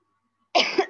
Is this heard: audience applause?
no